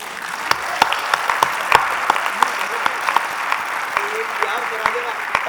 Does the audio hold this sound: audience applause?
yes